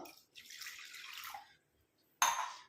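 Water pours and splashes into an iron pan for about a second, then after a brief pause a sharp sizzling splash follows.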